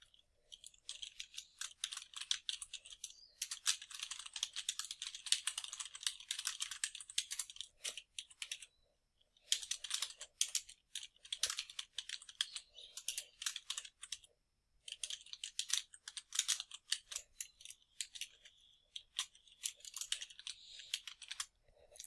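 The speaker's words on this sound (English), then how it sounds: "And then you'll start typing the inside address." Typing on a computer keyboard in a quiet room, with bursts of rapid, crisp key clicks separated by brief pauses, close and fairly soft.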